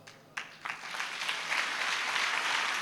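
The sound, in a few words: congregation applauding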